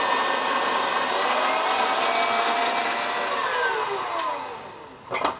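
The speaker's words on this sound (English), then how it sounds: "we're going to take it immediately off our heat and put it on our mixer and beat it until it's a frosting" An electric stand mixer beats meringue frosting for a banana split cake on high speed, a loud, steady motor whine that holds near and alone, dipping slightly near the end.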